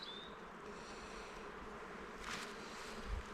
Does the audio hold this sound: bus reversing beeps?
no